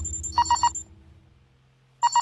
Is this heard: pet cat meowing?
no